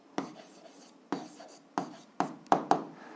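A marker or pen writes an algebra answer on a board or page, giving five short scratchy strokes spaced irregularly across a quiet room, close and fairly soft with no talk.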